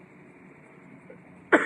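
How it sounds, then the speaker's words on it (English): A single short cough bursts out near the end after a stretch of quiet room tone. "sorry if I'm coughing through this one"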